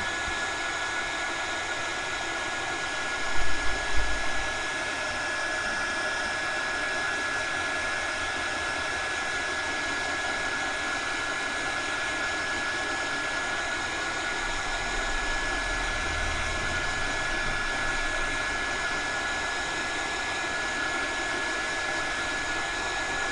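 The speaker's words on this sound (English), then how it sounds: "Take the heat gun." A heat gun blows hot air in a constant, loud whirring roar with a steady high whine, unbroken for over twenty seconds apart from a couple of faint knocks.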